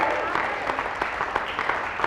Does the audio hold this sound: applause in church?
yes